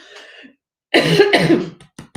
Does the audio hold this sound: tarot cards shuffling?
no